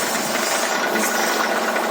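A motor driving a shaft for threshing millet runs at a steady, rough, rattling drone throughout, close and fairly loud with no voices.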